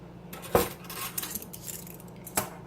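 A spoon clinks against a dish while tablespoons of sauce go onto mini pizzas, two sharp metallic taps with soft scraping between, close and quiet.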